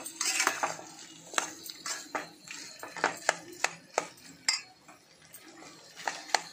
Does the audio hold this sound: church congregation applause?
no